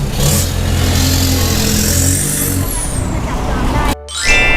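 A lowered Isuzu D-Max Cab4 pickup, Z spec, on custom wheels with a racing exhaust revs loudly nearby, its engine note rising and falling, then cuts abruptly near the end before a brief surge of noise returns.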